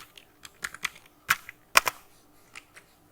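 Keys on a computer keyboard click in short irregular bursts while JavaScript code is typed, with a few louder, sharper strokes standing out, close and quiet with no talking.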